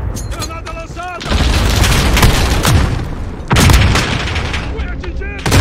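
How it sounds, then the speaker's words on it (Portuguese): Loud video-game gunfire and a heavy grenade explosion from a shooter game, sharp shotgun blasts followed by a rumbling boom, then another blast, close and punchy. "Granada lançada!"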